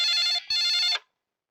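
A telephone rings in two quick electronic bursts with a short break between them. The ringing is loud and close, with nothing else heard.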